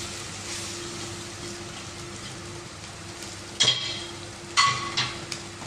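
Coconut pieces frying in coconut oil in a pan give a steady, soft sizzle with a low hum, broken near the end by a few louder clattering stirs.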